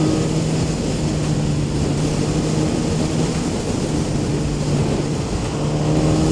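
A 2015 Suzuki GSX-R1000 pulls steadily on the road, its constant engine drone buried under loud, continuous wind rush.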